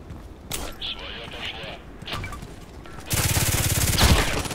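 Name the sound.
Glock 18 gunfire in Contract Wars video game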